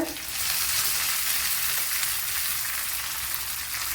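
Curry leaves dropped into hot oil in a pan give a steady, dense sizzle and crackle that holds loud and close throughout, with no voices.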